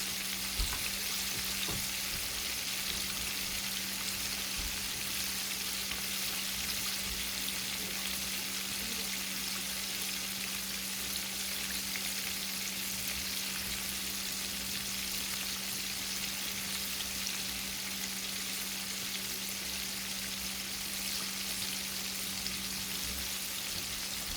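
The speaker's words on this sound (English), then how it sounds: "we're going to let that fry up" Shrimp frying in a pan on medium heat for bang bang shrimp, a steady broadband sizzle running unbroken throughout with a low constant hum beneath, no voices.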